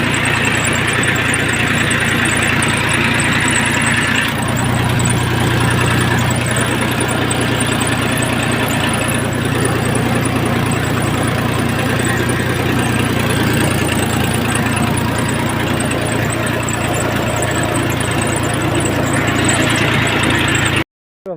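A tractor engine runs in a farm field during sowing, a loud, steady low rumble with a rough, knocking idle that holds for about twenty seconds before cutting off abruptly.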